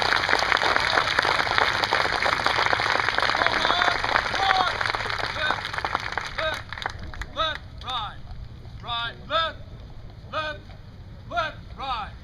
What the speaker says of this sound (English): Ladies and gentlemen, please give these soldiers a round of applause.